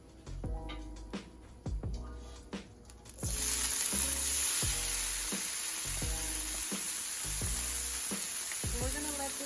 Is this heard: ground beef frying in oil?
yes